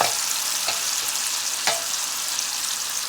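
Tandoori chicken and vegetables sizzling in a pan, a dense continuous hiss with two sharp stirring scrapes, no voices.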